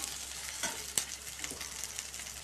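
Curry ingredients sautéing in a pan with a continuous bright sizzle and a few soft stirring scrapes, close and steady throughout.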